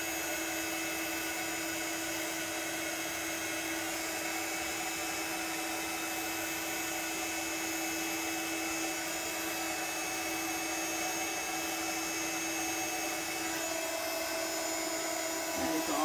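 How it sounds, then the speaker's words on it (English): A heat gun blows over embossing powder to melt it, a steady, loud whirring hum that runs without a break and sounds like a hair dryer. "All I'm going to do is just hold my heat gun still, and then as soon as that embossing powder starts to melt and change"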